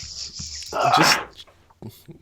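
A dog makes a brief vocal sound, a short bark or whimper burst near the middle, close by, followed by faint small noises in an otherwise quiet indoor room.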